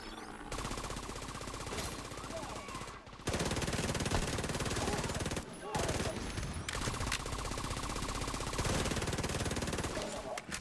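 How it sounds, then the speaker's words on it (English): SMG and LMG gunfire in The Division 2 rattles at a rapid rate of about 900 rounds per minute, heard as long, loud continuous bursts separated by short pauses. "Something about the freaking SMGs and the LMGs in this game are so satisfying. the like 900 RPM sound."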